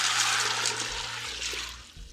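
Stew peas are washed in water, a close rushing, swishing wash that tapers off over about two seconds, with no talking.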